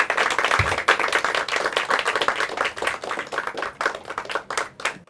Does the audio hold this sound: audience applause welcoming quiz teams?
yes